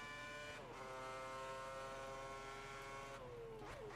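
Race car in a Formula One video game, powered by a Cosworth engine, holds a loud, high-pitched wail that jumps through a quick gear shift early on, then drops and rises again near the end, with no talking.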